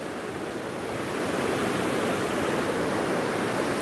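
The Hope River in Gordon Town rushes in flood after Hurricane Melissa, a steady, dense roar of churning water that swells slightly and then holds loud and continuous throughout, with no voices.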